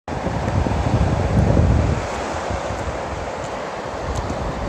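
Atlantic Ocean waves at night rush as a steady broadband wash, louder and heavier for the first two seconds, then settling into a constant roar with some wind buffeting on the microphone.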